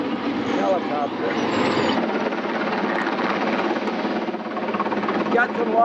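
A helicopter's steady, dense rotor thrum fills the clip, continuous and fairly close, with no breaks.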